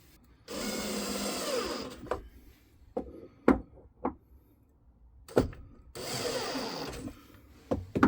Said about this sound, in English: we're gonna hit it with a little bit of stronger drill here just to